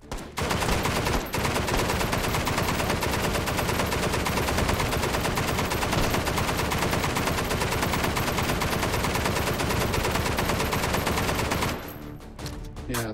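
An Ultimax machine gun fires in the VR game Hot Dogs, Horseshoes & Hand Grenades, a loud, close, sustained automatic burst lasting over ten seconds before it stops abruptly.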